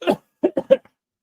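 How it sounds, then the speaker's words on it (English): A single cough is followed by a quick string of three short, rough coughs, close and fairly loud, with silence after. "Wait, I got a cough."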